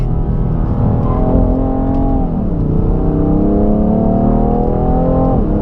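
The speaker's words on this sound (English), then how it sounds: "when those turbos kick in on that 3-liter twin turbo inline 6, this thing pulls hard" A 2017 BMW M3 with its 3-liter twin-turbo inline six accelerating hard, a loud continuous engine drone heard from inside, pitch dipping briefly at a shift and then climbing steadily again.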